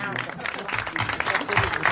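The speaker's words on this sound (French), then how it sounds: "Applaudissements" A 1981 French television studio audience applauds, a short burst of crowd clapping that swells toward the end and is mixed with overlapping voices.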